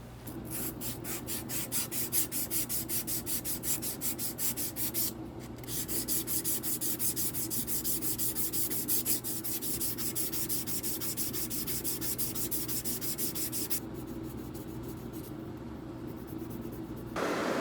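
A worn Winchester 67 rifle bolt is scrubbed and polished by hand with steady, rapid rasping strokes that run continuously at close range, briefly pausing twice and softening near the end.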